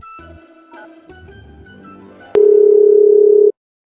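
Telephone ringback tone as a phone call is placed, a single loud steady tone starting abruptly after some softer background sound and cutting off cleanly a second later.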